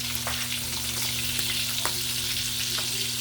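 Marinated pork fries in a pan with a steady crackling sizzle, close and constant, with a low hum beneath and a few sharper pops.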